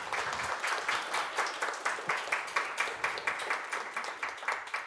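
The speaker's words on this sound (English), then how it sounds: "Could we give Jack another round of applause, please?" Audience applause after a talk at a workshop day, a steady, even patter of many hands clapping at moderate volume for several seconds with no voices over it.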